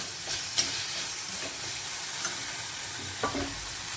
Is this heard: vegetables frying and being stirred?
yes